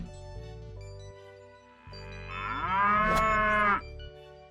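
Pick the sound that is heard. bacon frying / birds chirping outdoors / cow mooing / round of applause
cow mooing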